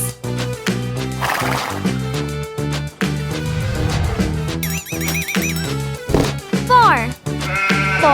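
Several sheep bleat over a bouncy children's music track with a steady beat, the cartoonish bleats rising in wavering bursts near the end, loud and close.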